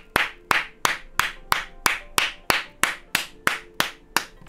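Steady hand clapping, about a dozen sharp claps at an even, unhurried rhythm, close and clear with no voices over it.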